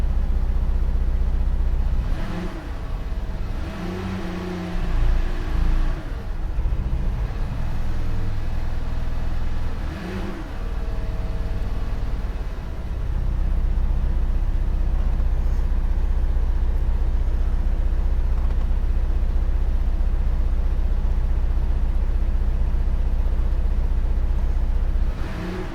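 A Chevy 3.6 V6 idles steadily with an aftermarket 80mm throttle body fitted and runs rough, producing a constant low engine drone with a few short surges early on.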